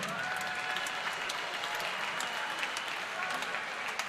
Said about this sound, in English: This thinned out crowd gives Brady a round of applause